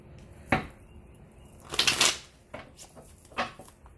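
A few quick riffling bursts of cards being shuffled, with papery flutters and soft taps at uneven intervals in a quiet room.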